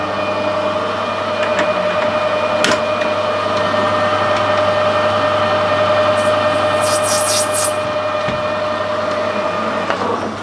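A lathe cutting a small chamfer on the outside edge of a bronze bush, giving a steady, loud motor hum and whine close by, with a brief faint hiss of cutting partway through.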